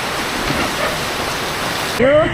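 Steady rain hisses continuously, broad and close, with a voice briefly breaking in at the end.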